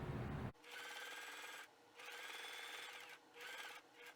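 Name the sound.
sewing machine running a top stitch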